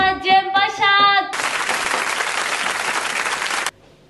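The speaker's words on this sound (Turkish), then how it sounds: "Alkışlarınızla Cem Başak." A studio audience breaks into applause welcoming a guest, steady dense clapping lasting a couple of seconds after a short musical jingle, then cutting off abruptly.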